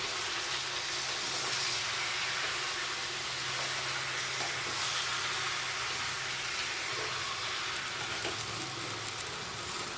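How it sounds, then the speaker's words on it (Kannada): Chicken frying in hot oil for a Sunday party meal, a steady continuous sizzle and crackle of spattering oil heard close up for the whole stretch, with no talking. "ಸೊ ಇದಾದಮೇಲೆ ನೀಟಾಗಿ ಫ್ರೈ ಮಾಡಬೇಕಿದ್ನಿ"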